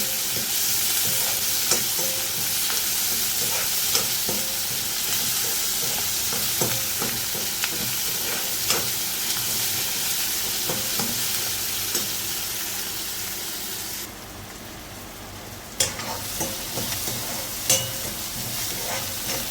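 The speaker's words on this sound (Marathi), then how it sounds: "असा कांदा थोडासा गुलाबी रंगावर परतून घ्यायचा" Onion sautéing in hot oil gives a continuous close sizzle with regular spoon scrapes and taps against the pan; the sizzle briefly drops near the end before the stirring clicks resume.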